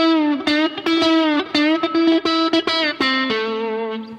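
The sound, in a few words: electric guitar chicken picking technique, muted cluck then pluck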